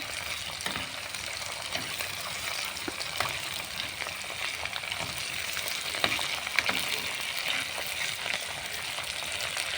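Ghee sizzles steadily in a pan with taro and garlic, a dense close-up crackle running throughout with occasional sharper pops and stirring clinks.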